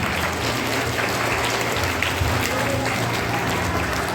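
Continuous, dense applause from a large crowd at a school National Sports Day event, steady and fairly loud for the whole stretch, with faint murmuring voices beneath.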